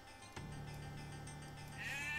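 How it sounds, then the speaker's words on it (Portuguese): A sheep bleating in the Age of Empires 2 strategy video game, a single sustained wavering bleat clearly heard over a steady background of game sound. "Tem uma ovelha."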